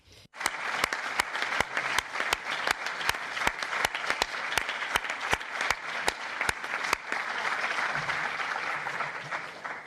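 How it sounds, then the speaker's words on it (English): An audience at a conference event applauds the team, a dense, continuous clapping that rises after a brief quiet start and stays loud and steady to the end, with a rhythmic thumping beat running through the first part. "So a round of applause for the whole team"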